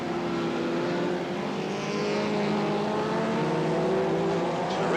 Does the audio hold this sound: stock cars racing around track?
yes